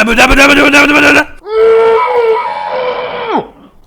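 A character in the Suicide Squad video game lets out loud, tonal screams, one short burst followed by a longer drawn-out wail that bends down sharply at the end.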